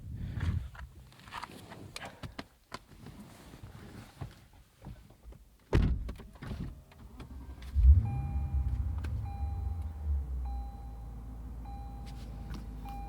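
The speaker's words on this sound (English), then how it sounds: "Nice startup sequence." A 2015 Lexus RC F sits through faint clicks and shuffling, then its engine fires with a sudden loud low roar near the eight-second mark and settles into a steady, rumbling idle, with a soft repeating chime above it.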